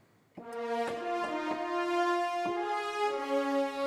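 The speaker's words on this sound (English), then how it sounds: "now I've got this awesome legato sound from Hollywood brass" Hollywood Brass legato layered with the Berlin Brass virtual instrument, a warm ensemble swelling in on a held note, then moving smoothly through a few connected legato notes, alone and fairly close.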